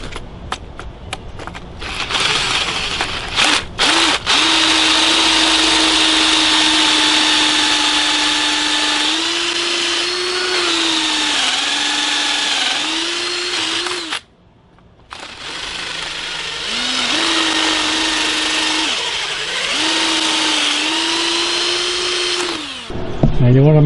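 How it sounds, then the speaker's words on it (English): A handheld power drill bores deep dowel holes into wood through a homemade doweling jig, a steady loud whine with two long passes separated by a brief pause, pitch dipping under load. "We're going to drill."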